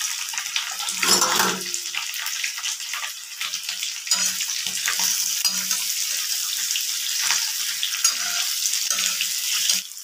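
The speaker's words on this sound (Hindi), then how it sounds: "इसमें जाएगा सबसे पहले सरसों का तेल, जीरा डाल देंगे, आलू" Cumin seeds and potatoes sizzle in hot mustard oil in a pan for a Pahadi potato dish, with a steady hissing fry throughout, a louder burst near the start and a few soft stirring clinks.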